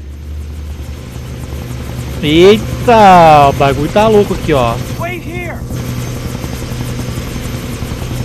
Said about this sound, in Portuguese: Proteger esse helicóptero foi difícil